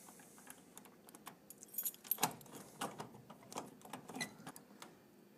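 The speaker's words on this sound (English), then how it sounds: "So we take and open our lock." A key works the plug lock on a vending machine: faint metallic jingles, small clicks and scrapes close by, irregular and quiet with a low background hum.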